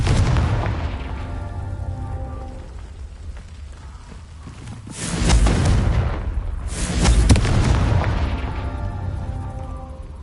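Confringo blasting-curse explosions in Hogwarts Legacy on PS5: two heavy booming blasts a couple of seconds apart, loud and close, over a rumbling game backdrop.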